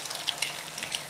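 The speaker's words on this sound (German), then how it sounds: "ihr gebt die Eier in die heiße Pfanne und nicht sofort die Eier kaputt verrühren, sondern anstocken lassen" Two eggs fry in a hot pan while cooking Thai pineapple fried rice, a steady close crackling sizzle with light stirring scrapes and pops throughout.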